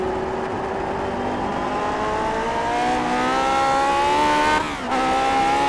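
A Lotus 49 race car with a 3-liter Ford V8 slides through a bend at Watkins Glen, its engine a loud, steady, rising drone, with a brief dip and lift in pitch near the end and no voices.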